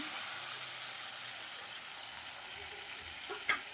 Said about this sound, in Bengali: তারপর আবার মশলার সঙ্গে বেশ কিছুক্ষণ নাড়াচাড়া করে নেব